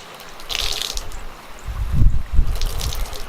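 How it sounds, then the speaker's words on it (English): Wet laundry is wrung out by hand outdoors, with water splashing and dripping in loud bursts as the cloth is twisted and squeezed. "And of course you hand wring, that's why I'm outside, to get as much as you can out"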